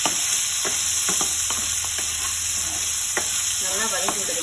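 Onions sautéing in sesame oil in a pan for a Chettinad crab gravy, a steady close sizzle with intermittent scraping and stirring clicks, no talking.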